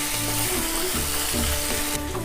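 Half a spoon of garlic paste fries in hot oil with onions in a pan, giving a loud, steady, dense sizzle close by with no voices.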